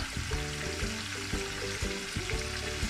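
Sizzling oil for chicken dum biryani, a steady close crackle with a regular pulsing pattern of bright tonal chirps beneath, no talk.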